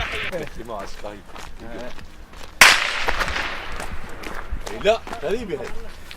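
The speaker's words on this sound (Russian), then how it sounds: "Выстрел со стороны боевиков заставил нас идти вдоль насыпи гуськом." A single sharp gunshot cracks out mid-clip, loud and close, fired by militants during a Syrian Army operation in Al-Kabune, amid outdoor noise and people speaking before and after.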